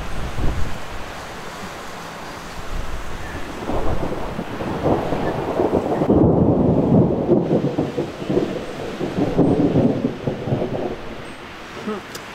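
Thunder rolls through an Arizona monsoon storm in long, deep rumbles that swell and fade over several seconds, with wind or rain hiss beneath and faint voices talking.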